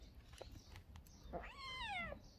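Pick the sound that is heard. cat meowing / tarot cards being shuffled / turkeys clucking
cat meowing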